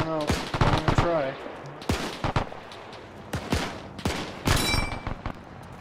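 Gunfire in ArmA 3 during a WWII Operation Husky campaign mission: sharp, close shots and rapid bursts cracking out irregularly, with voices talking between and over the shooting.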